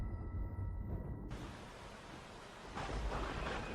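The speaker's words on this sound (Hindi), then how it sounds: "बाहर बहुत जोरों की बारिश थी।" Heavy rain pours steadily with low rumbles of thunder, a dense roar that swells in the final second; no voices.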